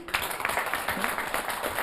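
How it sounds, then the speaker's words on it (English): A crowd claps steadily, a dense patter of hands filling the room for a couple of seconds with a faint voice underneath. "Let's clap for her."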